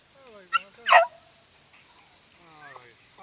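A dog on a walk gives a few sharp barks and yips, close and loud, with soft whining between and an owner's voice murmuring nearby.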